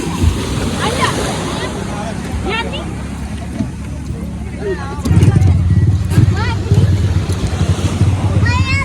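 Sea waves and boat noise at Mandvi beach in Kutch, a steady broadband wash of surf and water that grows louder and rougher halfway through, with a crowd babbling and voices talking over it.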